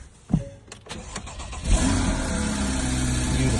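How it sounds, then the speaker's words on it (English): A 2014 Porsche Boxster cranks and fires up on a newly cut and programmed key. A couple of faint clicks come first, then the engine catches with a loud burst and settles into a steady, close idle. "I'm gonna put this in the ignition"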